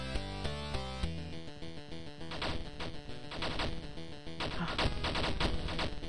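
Game explosions and heavy blasts boom over a layered electronic soundtrack, growing denser and louder toward the end, with no talking.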